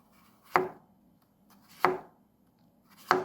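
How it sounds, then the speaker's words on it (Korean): A knife chops vegetables on a cutting board while making Korean potato pancakes, three slow, separate thuds spaced just over a second apart, close and clear with no talking. "야채를 썰어요"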